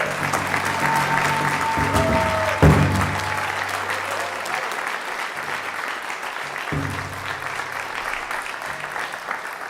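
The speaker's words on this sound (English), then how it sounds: "we will start with one big round of applause for everyone standing over there." Sustained applause from a crowd at an American Indian graduation honoring ceremony, dense and steady for nearly ten seconds, with a faint tone and voices murmuring underneath before it gradually thins.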